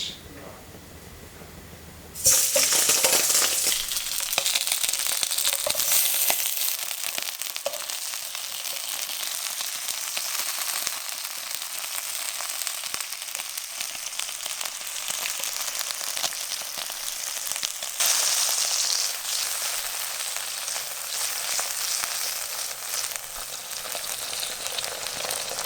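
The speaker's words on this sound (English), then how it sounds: "In a hot pan with olive oil, I'm going to place these merguez sausages." Merguez sausages dropped into a hot pan with olive oil, setting off a sudden loud, crackling sizzle that continues steadily close up, with brief spits and a flare of spattering partway through.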